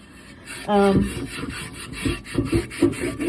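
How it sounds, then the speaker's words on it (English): A scrubbing tool rasps over rusty cast iron after a vinegar bath and baking soda, giving short, close, irregular rubbing strokes that start and stop, with no talk. "the rust is just scrubbing off, as you can see, real nicely"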